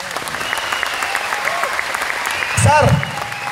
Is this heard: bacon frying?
no